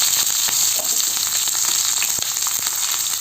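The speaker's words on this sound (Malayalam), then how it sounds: "കടുകും ഉലുവയൊക്കെ ഒന്ന് നന്നായി പൊട്ടി വരുന്ന സമയത്ത് നമുക്കിതിലേക്ക് കുറച്ച് ചെറിയ ഉള്ളിയാണ് ചേർത്ത് കൊടുക്കുന്നത്" Mustard seeds, fenugreek and small shallots sizzle steadily in hot oil for a sambar tempering, a dense continuous frying hiss with scattered sharp pops and crackles close by, no voices.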